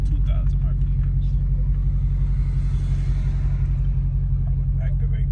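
A widebody Dodge Charger Hellcat's engine is held at raised revs before a launch, producing a deep, loud, unbroken rumble that stays constant throughout while a voice talks over it.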